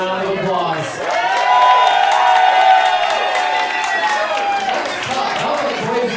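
A roast battle crowd gives a loud, sustained wave of cheering, whooping and applause, swelling after the first second and staying strong to the end.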